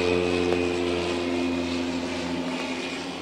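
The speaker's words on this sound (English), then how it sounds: "look at that seaplane coming in." A propeller seaplane drones steadily overhead as it flies in to land in Vancouver, a continuous outdoor engine hum at moderate distance with no voices.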